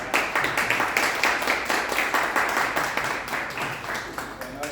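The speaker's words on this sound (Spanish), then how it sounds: "Un aplauso" A church audience applauds with dense, sustained clapping that stays loud and even for several seconds, with a few voices mixed in.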